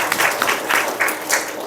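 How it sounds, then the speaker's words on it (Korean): A church congregation at a Sunday service in Tongyeong applauds briefly, a soft wash of many hands clapping together, fairly near and without talk. "우리 한 번 더 박수하십시오."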